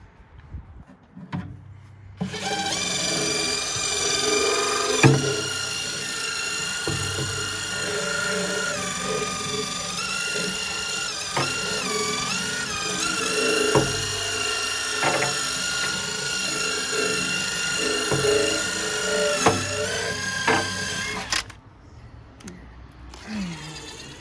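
Drill-driven scrub brush spinning against a neglected fish tank outdoors, a steady close whirring motor whine with gritty scrubbing and splashing of cleaner, running continuously for about twenty seconds before cutting off, with no talk.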